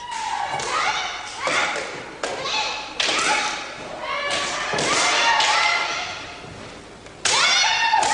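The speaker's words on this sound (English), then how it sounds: "The contestants must shout out the name of their target just as they launch an attack, and the judges then decide whether the blow strikes home accurately or not" Kendo contestants shout loudly and strike with bamboo swords, producing overlapping yells, sharp thwacks and thuds, and the scuff of footwork in a lively, echoing match.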